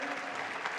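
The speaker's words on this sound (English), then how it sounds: "We can make some noise for our winner" Crowd applause at a squash tournament in Paris, greeting the first-round winner: dense, steady clapping filling the whole brief moment, close and fairly loud.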